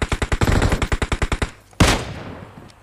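Automatic gunfire in the video game PUBG Mobile: a rapid burst of about thirteen loud, evenly spaced shots, a short pause, then one single shot that echoes away.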